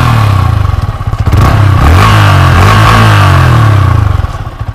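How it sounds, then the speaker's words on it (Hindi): A Yamaha R15 V4 motorcycle engine runs loud and close outdoors, its exhaust revving up and settling back in a few swells with a steady underlying idle. "अभी ये मैंने R15 स्टार्ट कर दिया है"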